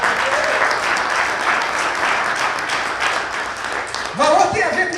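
A church congregation claps steadily during a sermon, a dense, loud wash of hands that continues without break, with a voice breaking in near the end.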